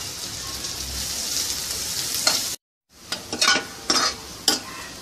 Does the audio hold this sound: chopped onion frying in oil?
yes